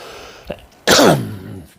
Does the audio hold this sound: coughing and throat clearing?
yes